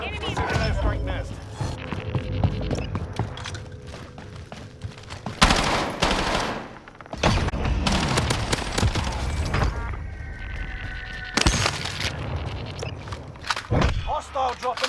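Heavy bursts of gunfire and sharp explosion impacts from an airstrike in the Warzone Plunder mode, loud irregular blasts with quieter stretches between, and in-game radio voices heard at times.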